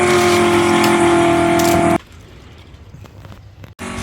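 Hot Wheels, Matchbox and Majorette die-cast toy cars race down a track with a loud, steady whirring rumble of wheels that cuts off sharply after two seconds, leaving quieter rattles and clicks as the cars cross the finish line.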